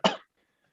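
A single short, sharp cough, close and alone, followed by near silence.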